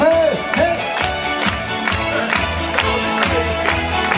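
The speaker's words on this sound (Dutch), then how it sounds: "We gaan het handjes klappen." Audience clapping hands in rhythmic unison at a party show in Alken, regular claps over a music beat with a voice and crowd noise around them.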